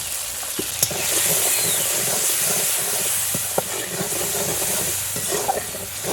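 Tomato frying in a pan with salt and turmeric for a mustard-paste fish curry, a steady close sizzle with occasional stirring scrapes and a few sharp clicks throughout.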